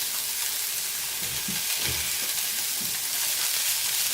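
Vegan ground meat substitute sizzles steadily in a hot pan for chili, a bright continuous frying hiss up close, with a few soft stirring scrapes underneath.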